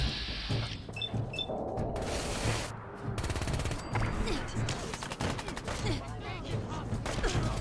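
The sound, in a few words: gunfire from a weapon in the video game Fallout 4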